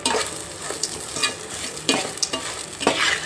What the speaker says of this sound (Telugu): పోపు అయితే బాగా వేగిపోయి మిక్సీ చేసి చూపిస్తాను మీకు.